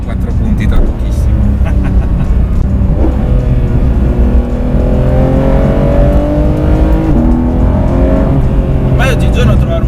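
A 2019 Porsche 991 GT3 RS with a naturally aspirated engine revs hard and climbs steadily through the gears. It sounds loud and continuous from inside the car, its rising engine note carrying for the full length with a voice speaking over it.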